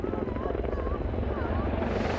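An RAF Merlin helicopter flies at the Farnborough International air show in 2006, its steady loud rotor thrum and engine buzz continuous throughout, with a voice talking over it.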